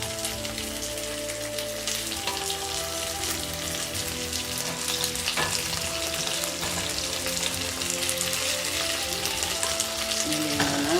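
Chicken wings stir-frying in a large pan with garlic, a steady loud sizzle with scattered crackles and occasional utensil clinks, continuous for the whole stretch with no talking.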